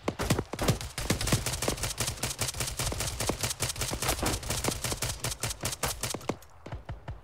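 Rapid gunfire rattles through an Arma 3 combined-arms firefight, as close, sharp shots fire in quick, steady succession, overlapping into dense bursts that thin out just before the end.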